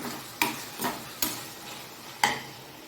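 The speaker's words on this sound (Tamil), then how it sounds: "இப்போது இதை நல்லா வதக்கி விட்டுக்கலாம் தக்காளி வந்து ஓரளவு நல்லா வதங்கட்டும்" Chopped tomatoes are sautéed in a pan for tomato rice, with four or five distinct spatula stirs and scrapes over a faint sizzle, close and fairly quiet.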